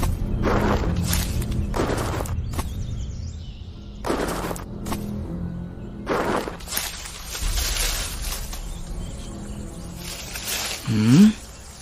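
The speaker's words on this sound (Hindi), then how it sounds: "भालू, ये कहां से आया यहाँ पर?" A bear growls as a sound effect in a Hindi horror podcast, with repeated rough, rumbling bursts and thuds that rise to a loud snarl near the end.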